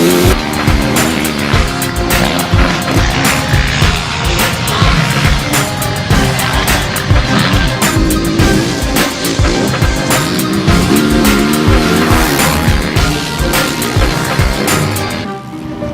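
Yamaha YZ450F desert racing motorcycle, 2014 model, ridden out in the desert; a loud, close engine roaring and revving continuously through repeated throttle surges and gear changes, cutting off at the end.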